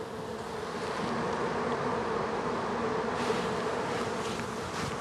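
Honeybees swarm around an open hive during a May split, their buzzing a thick, unbroken hum that stays loud and close from start to finish.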